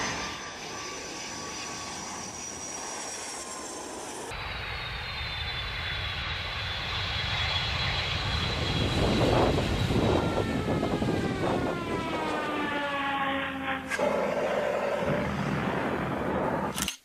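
An airplane engine drones loudly and steadily, with a whining tone that slides downward as the pitch shifts, swelling midway and holding strong for many seconds.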